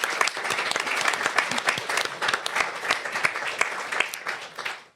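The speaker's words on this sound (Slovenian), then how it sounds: "Evo, damo še njej en aplavz." An audience at a talk on love gives a sustained round of clapping, dense and steady at moderate distance, then tapers off near the end.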